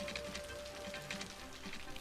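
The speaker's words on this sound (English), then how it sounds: "that is a lot of rain" Rain falling in the city-building game Cities Skylines, a faint, continuous patter of rain on surfaces, steady and quiet, with no talk.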